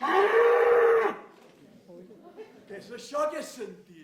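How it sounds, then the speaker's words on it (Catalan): A bull or ox gives one loud, drawn-out bellow lasting about a second at a community theatre performance, followed by a person speaking. "Això era el bramul d'un bou?"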